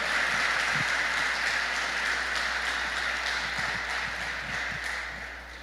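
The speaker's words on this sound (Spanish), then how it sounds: "Démosle un fuerte aplauso al Señor Jesús" A church congregation applauding during a worship service, a steady, even wash of many hands clapping heard from a distance, holding level and then fading slightly toward the end.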